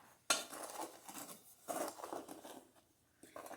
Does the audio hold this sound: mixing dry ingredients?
yes